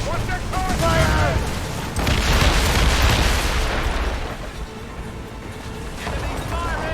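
Cannons fire during a naval battle in Assassin's Creed Rogue, heavy booms and rumbling volleys rolling over one another, loud and sustained, with shouted commands from the crew over the barrage.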